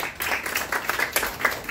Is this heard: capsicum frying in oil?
no